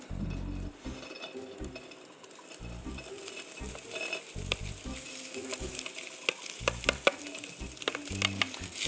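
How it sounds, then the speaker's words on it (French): Meat fries in a pan with leeks and parsley, a loud close sizzle that keeps building, broken by bursts of stirring and clinks of a utensil against the pan. "il est quand même temps de mettre la viande parce que si on veut que les poireaux, le persil, tout ça soit cuit"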